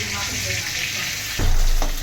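Stuffed pointed gourd (potol) frying in hot mustard oil, a loud continuous sizzle that swells sharply near the end as pieces shift in the pan.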